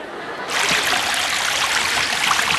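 Running water splashing and trickling as hands and face are washed, starting abruptly after half a second and continuing steadily and close by, a bright broadband rush with no voices over it.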